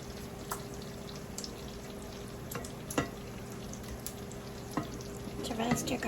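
Butter and bacon grease sizzle and fry steadily in a pan while garlic roasts, with a constant crackling hiss, occasional sharp pops and stirring scrapes, and light clatter near the end.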